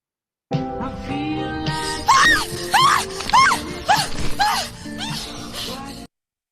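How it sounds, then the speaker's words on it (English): Inside a played video on stalking, a woman cries out in several rising, strained screams mixed with anxious voices, preceded by a low murmur and a muffled clatter. "someone screams in this video"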